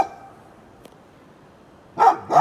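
A space guard dog in a video game barks, a short double bark that breaks a near-silent stretch and comes close and fairly loud at the end.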